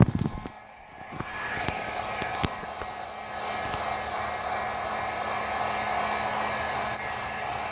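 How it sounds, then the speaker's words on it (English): A heat gun blows on freshly sprayed VHT Wrinkle Plus paint, starting after a few faint clicks and then holding a steady, moderately loud whooshing drone. "So let's get the heat gun and try that."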